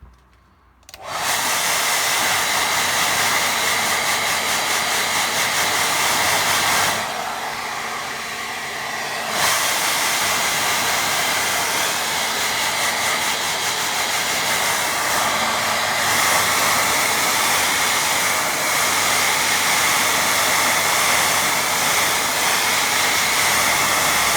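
A hair dryer drying a watercolour painting blows with a loud, steady whoosh for the whole stretch, easing off briefly partway through before returning to full strength.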